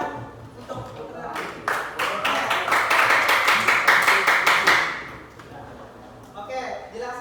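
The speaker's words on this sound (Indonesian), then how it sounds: "Tepuk tangan untuk Putra." Classroom students clapping for a classmate, a burst of sharp, rhythmic claps rising loud in the middle and stopping abruptly, with children's voices before and after.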